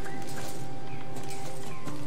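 Horse hooves clip-clop steadily in the online riding game Star Stable, a close, rhythmic trot layered over busy game music and ambience.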